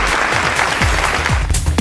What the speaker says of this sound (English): The louder the clapping becomes will determine the winning style.